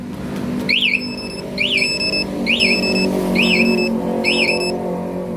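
Five short rising-falling chirps ring out at a steady rhythm from a Kawasaki Ninja 250FI smart key alarm, close and clear over a low idling engine rumble.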